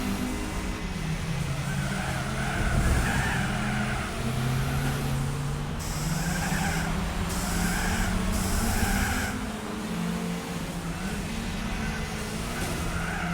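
Volkswagen Lupo race car in Gran Turismo 4 fitted with nitrous, its engine droning and revving hard through the gears, with tone climbing and dropping at each shift, steady and close throughout.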